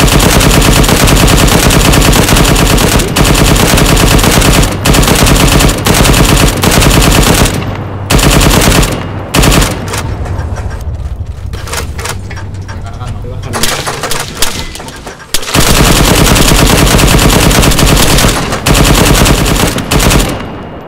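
Sustained machine gun fire in ArmA 3 Wasteland around Chernarus, loud and close, with dense rapid bursts broken by a quieter stretch midway, as people talk over the shooting.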